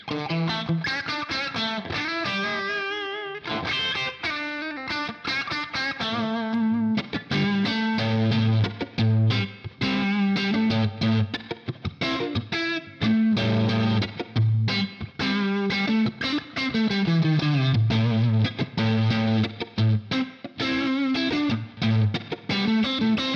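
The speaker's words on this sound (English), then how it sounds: "let's get that reverb back in here because my soul needs it" Electric guitar through a Marshall amp with reverb: chords and melodic lines with a washy, sustained effect, continuous and loud, with short gaps between phrases.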